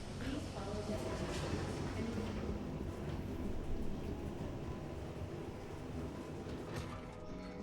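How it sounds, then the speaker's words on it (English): Transit capsule train in the Star Citizen video game arriving at a station, a steady low rumble and hum of the moving car with a sustained mechanical drone; a voice speaks over it. "Capsule now approaching station."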